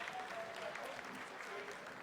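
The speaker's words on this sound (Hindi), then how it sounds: "आप तालियों के गड़गड़ाहट से सुन सकते हैं" Steady applause fills mission control during the Chandrayaan-3 lunar landing's vertical descent phase, a broad even wash of clapping with no breaks, with faint voices mixed underneath.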